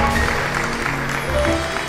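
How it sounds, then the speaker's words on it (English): A church congregation claps together during a sermon: a dense, steady wash of applause across the whole moment, with faint sustained tones underneath. "And I think we can clap on that."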